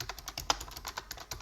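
Rapid typing on a computer keyboard while entering a Linux terminal command, with close, crisp, irregular key clicks and one sharper keystroke, no voices.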